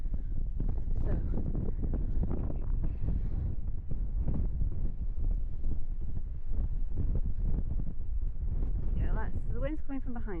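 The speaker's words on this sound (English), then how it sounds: "the wind's coming from behind me" Strong wind buffets the microphone on a solo hike over rocky ground, a loud constant rumbling roar throughout, with a voice briefly heard near the end.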